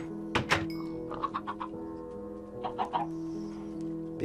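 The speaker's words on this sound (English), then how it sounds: "Baby chicken." Chickens in Minecraft on Xbox One make short game clucks and soft thunks, several clustered bursts with pauses between, clear and close over a faint steady background tone.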